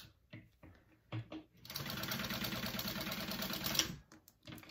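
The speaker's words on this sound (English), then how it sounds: "I am going to just sew this shut because I can" A sewing machine stitches a crossbody wallet shut in one fast, steady run of rapid mechanical clatter lasting a couple of seconds, with a few faint handling taps before and after it and no speech.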